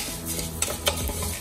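Rice and moong dal are stirred in ghee in a pan while making chakkara pongal, a soft scraping and rustling of grains with a couple of sharp clicks of a spoon against the pan, close and without talk.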